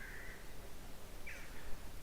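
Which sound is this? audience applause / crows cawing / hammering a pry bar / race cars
crows cawing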